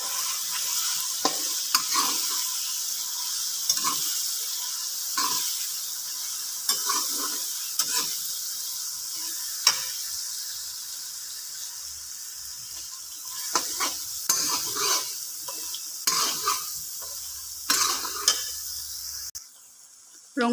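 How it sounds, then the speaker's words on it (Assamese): A paste of chili, garlic and ginger sizzles steadily in a pan for mutton curry, with repeated scraping stirs breaking through the hiss at an irregular rhythm, close and fairly loud. "মই ৰঙচুৱাকৈ ভাজি লম"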